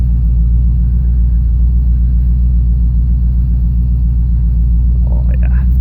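A 1968 Ford Mustang convertible, revived after sitting for 30 years, creeps along on snow tires on a snowy winter day. Its engine gives a steady, deep rumble throughout, with a few faint brief sounds near the end.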